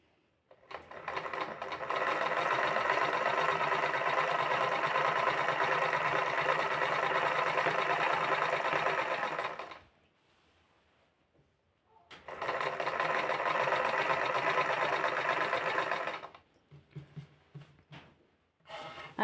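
A sewing machine stitching a picot edge along a saree runs steadily for about ten seconds, pauses briefly, then whirs again in a second shorter burst before stopping with a few faint clicks.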